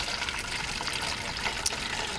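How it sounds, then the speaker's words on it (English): Apple juice for hard cider pours continuously into a fermenting container, a loud, steady liquid gush with a splash near the end and no talking. "So pouring the apple juice right into the container we're going to use to ferment this in."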